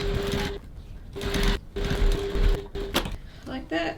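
A sewing machine running a 1 cm seam on a crossbody bag, its motor whirring in short bursts with brief pauses between them, close and steady.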